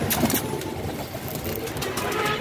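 Pigeons at a pigeon club, with soft cooing and fluttering wing sounds close by against a busy outdoor background hum.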